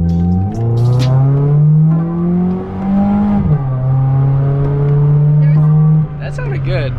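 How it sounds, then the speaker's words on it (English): A car engine revs and climbs in pitch as the car pulls away, holding a loud, steady drone with a dip and shift partway through, close by. "I can't believe you're letting Anthony drive your car."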